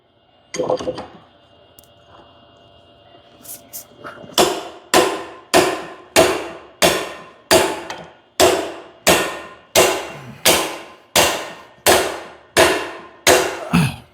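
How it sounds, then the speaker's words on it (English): A sledgehammer strikes a hydraulic cylinder rod in a steady series of about twelve loud, ringing metallic blows spaced roughly every seconds, after a brief clank and a quiet stretch at the start. "I get my sledgehammer and I'll hit this rod."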